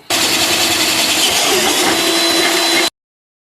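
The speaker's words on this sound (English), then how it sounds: "now we're going to step it up to the 3/8 or 1/2 inch bit." A power drill with a 3/8 or 1/2 inch bit bores a hole in an amplifier case with a loud, steady grinding whir that starts abruptly, holds for about three seconds and then cuts off.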